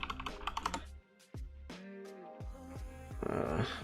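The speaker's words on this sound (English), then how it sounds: "and you just type in Twitter" Key clicks from a computer keyboard while building a portfolio website in HTML, CSS and JavaScript, a quick burst of typing, then sparse isolated taps, close and fairly quiet.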